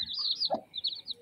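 A broody hen sitting on eggs with newly hatched chicks clucks once, short and close, between high chirps from the chicks, with no talk.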